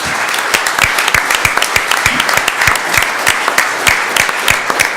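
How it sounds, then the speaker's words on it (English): An audience at a school board meeting gives students and parents a sustained round of applause, with dense, sharp clapping that stays loud and steady throughout. "Give them a big round of applause."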